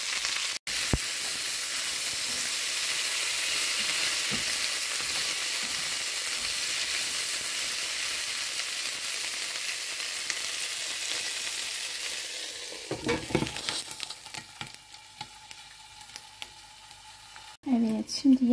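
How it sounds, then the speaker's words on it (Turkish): Chicken and eggplant frying in a covered pan on low heat, a steady soft sizzle and hiss that later turns into clatter and stirring noises near the end. "Şimdi ağzını kapatıp kısık ateşte kavuralım."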